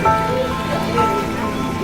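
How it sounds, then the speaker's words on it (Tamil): Steady rain falling during a flood season, a dense continuous patter heard close by and fairly loud, filling the short stretch without clear speech. "4 நாளா இங்க எங்க ஏரியால நல்ல மழை."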